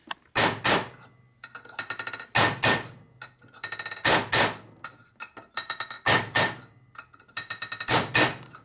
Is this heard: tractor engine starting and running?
no